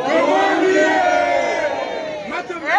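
A crowd at a political rally for the MLC party, many voices shouting and chanting together loudly and continuously, with rising and falling cries.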